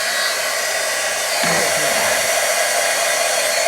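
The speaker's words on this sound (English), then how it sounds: "So let me bring my heat tool in real quick." A crafting heat tool blows hot air in a steady, loud hiss that fills the whole stretch, its tone shifting briefly partway through.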